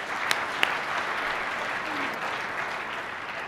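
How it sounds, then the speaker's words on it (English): Audience applause at the Transform Africa Summit 2013, a dense, steady wash of clapping from a large crowd lasting throughout, with a couple of sharper individual claps standing out near the start. "Please give him a round of applause."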